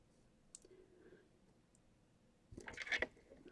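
A paper cutter slices through a die-cut card with hologram embossing: a soft, close scraping burst of a few seconds that follows quiet light clicks.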